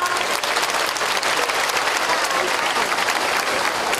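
Festival audience in Icheon applauds the deputy mayor at an outdoor night festival on Seolbongsan, a steady, dense wash of clapping from a large crowd lasting throughout, with no talk over it.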